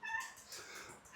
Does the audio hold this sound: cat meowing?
yes